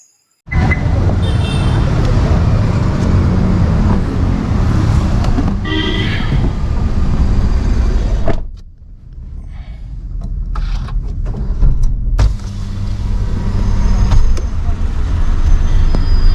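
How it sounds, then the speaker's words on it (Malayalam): A car starts up and pulls out of a parking area, a steady engine and road rumble close by, dipping briefly before rising again with passing traffic noise. "ഈ പാർക്കിങ്ങിൽ നിന്ന് ഞാനിപ്പോൾ വണ്ടി പുറത്തേക്ക് എടുക്കാൻ വേണ്ടി പോവുകയാണ്"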